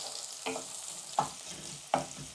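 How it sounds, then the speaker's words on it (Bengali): Crushed garlic frying in hot oil in a pan, a soft continuous sizzle broken by three sharp stirring scrapes spaced out across the moment. "এখন রসুনটা একটু ভেজে নিব।"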